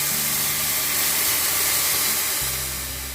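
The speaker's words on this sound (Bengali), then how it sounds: "কড়াটা গরম ছিল তো তাই দুধটা ফুটে উঠেছে" Milk poured into a hot pan for semai payesh bubbles up with a steady loud hiss and sizzle that fades slightly toward the end, with a low hum underneath.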